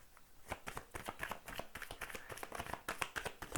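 Tarot cards shuffled and drawn by hand, a quick run of crisp riffling flicks and taps, close and soft, with no voices.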